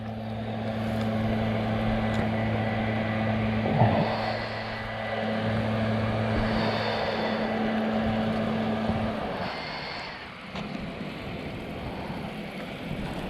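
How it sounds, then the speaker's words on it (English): A soft wash pump runs steadily on a pressure washing truck, a constant droning hum with a low tone that holds for about nine seconds, then drops away, leaving quieter hissing spray noise. "I can hear that pump on the truck"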